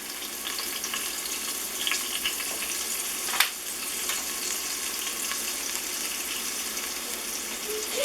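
Garlic and cumin sizzle in oil in an Instant Pot set to sauté, a steady close crackling hiss with a brief clink partway through and no speech.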